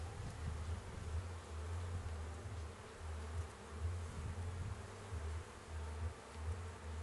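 Bees buzz steadily in an opened Bargo beehive during an inspection of the brood frames, a dense, continuous drone that stays close and even with a low pulsing hum throughout.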